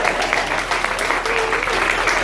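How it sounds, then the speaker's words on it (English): Wedding guests give a round of applause for the nanny, a brief burst of dense clapping from a room full of people, with some voices mixed in. "Nanny, again, another round of applause for you"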